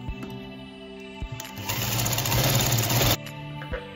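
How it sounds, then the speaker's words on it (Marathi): Sewing machine stitching a seam on a baby bonnet, a short burst of steady, whirring stitching in the middle, framed by quieter handling sounds and brief pauses. "आता मार्किंग करून झाली की आपण यावर एक टीप घालून घेणार आहोत"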